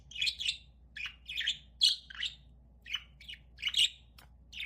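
Several sharp, high chirps from pet lovebirds come in uneven bursts over a few seconds. The birds sound close but moderately soft against a quiet room background, and nobody speaks.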